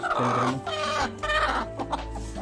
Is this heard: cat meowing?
no